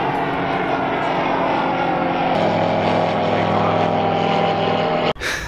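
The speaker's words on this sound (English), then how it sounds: "all the airplanes that are taking off and landing" Steady roar of a small propeller airplane engine running close by at an Idaho backcountry airstrip, loud and continuous, then cutting off abruptly near the end.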